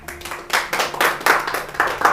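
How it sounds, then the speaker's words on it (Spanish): A burst of applause and hand clapping from a church congregation, steady and fairly loud throughout, with a few louder swells. "Vamos a dar un aplauso al Señor"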